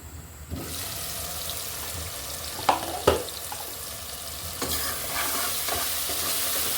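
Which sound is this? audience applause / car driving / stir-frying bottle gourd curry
stir-frying bottle gourd curry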